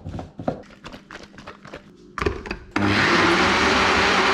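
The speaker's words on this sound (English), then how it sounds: "Now just a quick blend in the blender and we can start cooking." Knocking and handling sounds lead into an electric blender that starts up loud and steady, whirring through banana pancake batter made with coconut cream.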